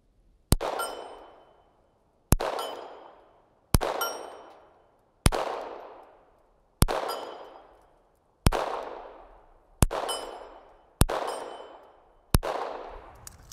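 Eight evenly spaced shots from a Smith & Wesson Victory pistol, each a sharp crack followed by a ringing metallic clang off a 6-inch steel plate roughly 50 to 55 yards away, with decaying outdoor echo and no talking.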